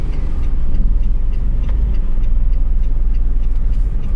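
A manual-transmission car creeps through dense evening traffic, its engine and road rumble a steady low drone heard from inside the cabin, with no talk over it.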